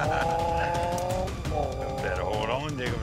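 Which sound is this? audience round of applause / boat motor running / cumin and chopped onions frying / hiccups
boat motor running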